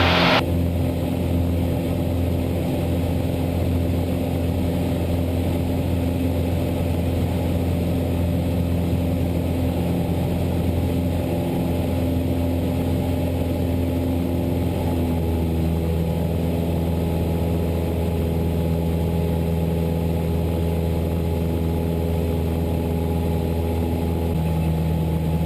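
A small airplane's piston engine roars steadily at full power through the takeoff roll and liftoff, a loud continuous drone with a slight shift in pitch partway through as the plane rotates and climbs.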